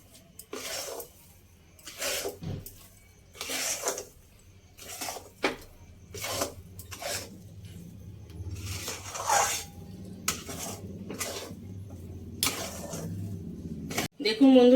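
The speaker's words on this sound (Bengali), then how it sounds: "সেই কাপে অর্ধেক কাপ চিনি দিয়ে দেবো। দিয়ে ভালো করে মিশিয়ে নেব।" A spoon scrapes and stirs sugar through ghee and chana dal in a pan for halwa, giving repeated rhythmic rasping strokes, close and moderate, with a soft clink near the end.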